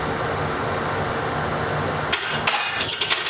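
A metal fork drops into a kitchen sink with a sharp clatter and a few quick rattling bounces, breaking through a steady low background hum.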